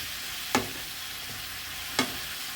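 Pakbet vegetables crowding a pan as they are stir-fried, a steady low sizzle with two sharp scrapes or clanks of the spatula about a second and a half apart, close by with no talking.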